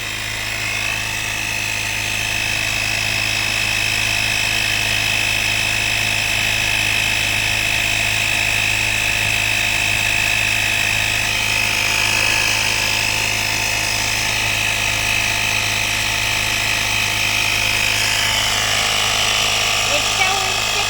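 A Carsun digital car tyre pump runs continuously, giving a loud, steady motor buzz with a high-pitched whine that holds unbroken throughout.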